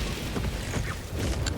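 A video-game explosion rumbles as a dense, continuous low roar with rattling, mechanical crackle layered over it, loud and close throughout the short moment with no talk.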